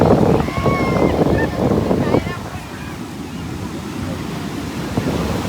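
Sea waves wash onto a beach at Dwarka in loud, steady surf with gusty wind buffeting the microphone, while a person talks over it during the first couple of seconds.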